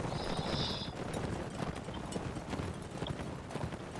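Horses' hooves in a Mount & Blade Warband battle, a steady rapid clatter of galloping clip-clops running throughout, with a brief whinny-like tone near the start and a busy ambient wash.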